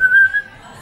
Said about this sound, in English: it is not socially acceptable to whistle at a dog on the street